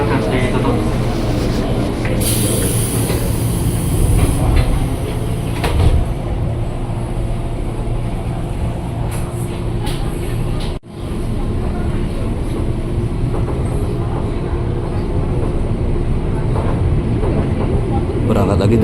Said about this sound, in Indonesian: Berangkat lagi dari stasiun Mangga Besar yang warna orange.